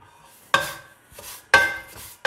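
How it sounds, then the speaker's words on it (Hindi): Semolina roasting in ghee in a pan over a low flame, with two distinct scraping strokes of a spoon against the pan about a second apart and a soft crackle between them. "ये सूजी हमारी भुन रही है जी दम वाली फ्लेम के ऊपर"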